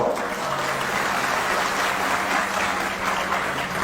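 A crowd claps at a Bahujan Samaj Party political rally in India, producing a dense, loud and continuous roar of applause that holds steady from start to finish, with no voices rising above it.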